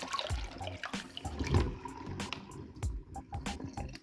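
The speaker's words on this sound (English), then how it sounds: "Warm water, let me pour some out." Warm soaking water poured off lentils into a kitchen sink, irregular close splashes and gurgles in uneven bursts over several seconds, with no talking.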